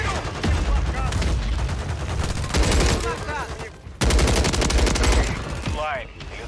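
Rapid bursts of automatic gunfire and single shots in the Call of Duty Warzone 3 video game, loud and near, with a short gap before the firing resumes.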